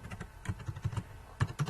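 A quick burst of keystrokes clatters on a computer keyboard as the command LOAD is typed into a GW-BASIC program, with several close, distinct taps in an uneven rhythm and no talking.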